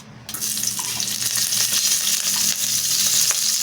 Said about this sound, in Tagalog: Magigisa tayo. Mauna yung mga bawang